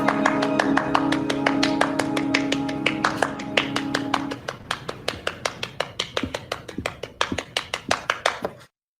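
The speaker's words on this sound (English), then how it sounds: "but is interrupted by the sound of clapping" Slow, deliberate clapping from a single person in a radio drama scene, a series of sharp, distinct claps alone over a faint musical bed that drops away midway, spaced roughly evenly and continuing for several seconds.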